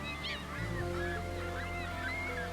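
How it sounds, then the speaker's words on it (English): Gulls gathering in large numbers along the Niagara River, calling with several rising, honking cries over a steady low rumble of rushing water. "All along the Niagara River, gulls are beginning to gather in large numbers."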